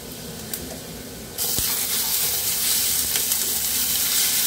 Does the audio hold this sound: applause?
no